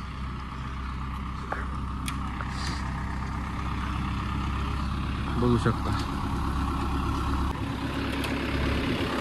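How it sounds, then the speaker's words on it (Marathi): A gravel dumper truck pulls up and stops at a hotel construction site, its heavy diesel engine settling into a steady, low idle with a brief hiss, while someone talks over the rumble throughout. "खडीचा आता एक डंपर येऊन थांबला बघा."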